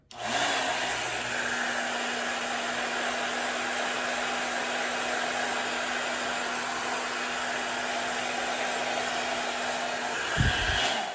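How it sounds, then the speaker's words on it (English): A hair dryer blows with a steady, loud whoosh and a constant hum, switching off near the end. "so now I'm gonna use my blow dryer"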